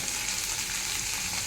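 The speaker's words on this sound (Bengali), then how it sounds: "ভালো করে একদম লাল লাল করে ভাজবো" Poppy seed paste for aloo, jhinge and peyaz posto fries in oil, giving a loud, continuous close sizzle with no break across the short stretch.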